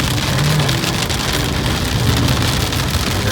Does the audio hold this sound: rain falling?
yes